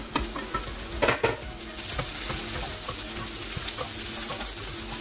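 Green beans and carrots sizzle in a hot pan for pancit canton, with a few clattering stirs at the start and then steady, close frying crackle.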